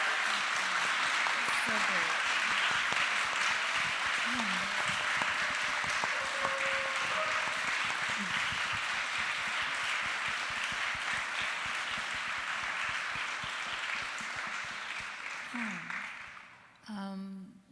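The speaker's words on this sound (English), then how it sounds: "If you want to get a moment to applaud all of our guests today." Sustained audience applause fills the room for many seconds, with a few voices heard under it, before fading out at the end.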